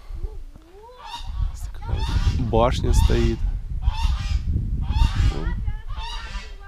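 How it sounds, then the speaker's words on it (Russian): A flock of geese honks repeatedly in loud, clustered bursts nearby at the ancient Greek site of Kalos Limen in Chernomorskoye, while a person speaks briefly among the calls. "Гуси."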